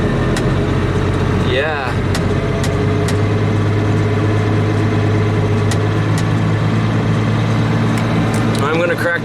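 A tractor drives a hay baler through its PTO at low RPM, a loud steady engine drone with a rhythmic mechanical churn from the baler, heard from inside the cab with a brief spoken word.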